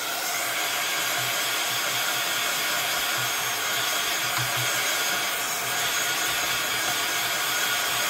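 Hair dryer blowing steadily on a stamped mixed-media card, a continuous broadband whoosh with a low motor hum, running alone at even loudness throughout.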